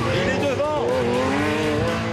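Classic rally cars from the 2009 Tour Auto manoeuvring, engines droning with a long wavering high tyre squeal sweeping up and down throughout, loud and continuous, with faint crowd voices beneath.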